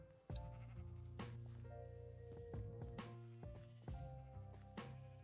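Sheep in a block-building video game bleat several times in short repeated calls over layered background game music, fairly quiet overall.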